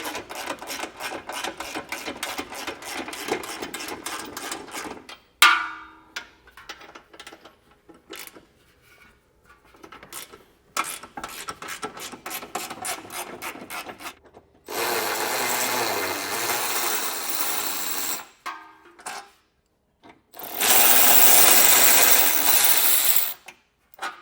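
A hand ratchet backs out factory 18mm frame bolts on a 2024 Jeep Wrangler, giving rapid close clicking runs in several bursts, broken by two longer, loud, steady rushing bursts, with no speech.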